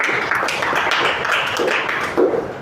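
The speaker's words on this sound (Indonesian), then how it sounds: "Tepuk tangan buat Davis" A class applauds a student, a steady, dense patter of many hands clapping at moderate distance, holding without a break across the whole stretch.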